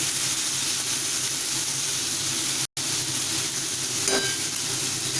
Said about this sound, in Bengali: আলু আর কুমড়োগুলোকে একটু ভালোভাবে ফ্রাই করে নিতে হবে